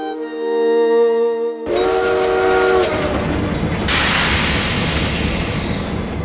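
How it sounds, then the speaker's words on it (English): A train at a railway station gives a long tonal steam whistle, then pulls along with a loud rumbling clatter and a burst of hissing steam, close and continuous without speech. "At the railway station, Priya steps out of the train and starts wal"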